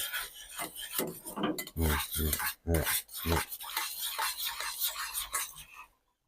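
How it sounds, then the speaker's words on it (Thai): A utensil stirs and scrapes thick flour batter in a pot as it cooks for crispy fried shrimp, giving repeated rasping strokes and knocks against the pot in an uneven rhythm, close up, before stopping abruptly. "กวนไปจนเจ้าแป้งมันสุกเว้ย"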